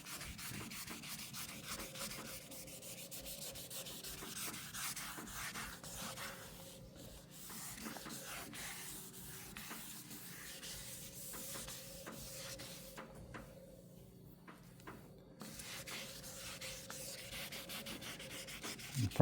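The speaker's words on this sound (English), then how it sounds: "wet sanding by hand on both sides on these kind of curvy areas" Hand wet sanding on a car's curved painted panels to remove orange peel texture gives a steady, soft, close rubbing scrape in repeated back-and-forth strokes, pausing briefly a few times.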